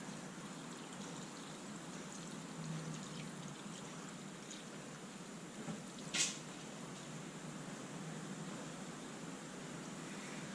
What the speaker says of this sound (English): So we'll top it up with water, okay, to the top.